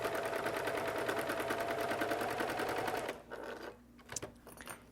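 A sewing machine stitches quilt binding with a fast, even mechanical chatter for about three seconds, then stops, leaving faint handling noises and a brief click.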